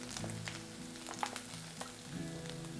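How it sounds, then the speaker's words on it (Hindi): Potatoes fry in a kadhai with a soft, steady sizzle, faint and close, broken by a few light clinks and scrapes of stirring. "इसे बीच-बीच में चलाते हुए हल्का ब्राउन होने तक फ्राई करेंगे"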